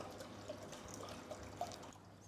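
Red wine for mulled wine is poured into a pot on a stove. It comes as a faint, steady trickle of liquid lasting a couple of seconds, quiet and close, with no speech.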